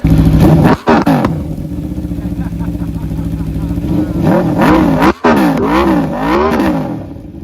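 Aprilia motorcycle with a titanium exhaust revving up close, loud and throaty, with repeated rising and falling rev sweeps and a couple of brief cutoffs between blips.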